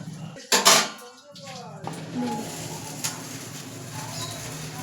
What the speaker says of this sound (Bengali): কড়াইটা একটু ধুয়ে নেব।